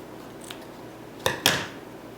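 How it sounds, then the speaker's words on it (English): Scissors snip ribbon off a spool while a wreath bow is made, two close sharp cuts in quick succession after a faint earlier tick, in a quiet room. "judge where it ends and cut it off from the spool"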